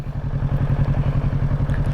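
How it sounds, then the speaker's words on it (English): A blue motorcycle passes on a winter road, its engine a steady, rhythmic mid-pitched thrum held close and loud for the whole stretch with no talk. "I see a motorcycle,"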